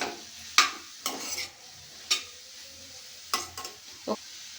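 Ridge gourd curry is stirred in a pan. Several sharp scrapes and clinks of a spoon against the metal come at irregular intervals over a faint, quiet sizzle.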